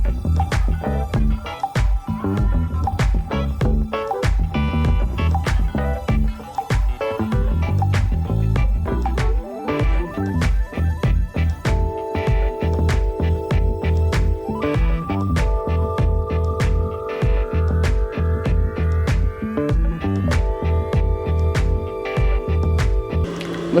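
A sewing machine stitches lining to fabric in rapid, clattering bursts of needle strikes, steady and close, with short pauses between runs and a faint whirring motor tone through the longer stretch.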